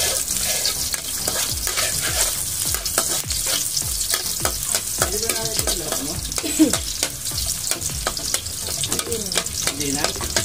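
Garlic sautéing in oil in a pan for a coconut-milk papaya and sardine dish, a close crackling sizzle broken by frequent sharp scrapes and taps of a spoon stirring, steady throughout with no speech.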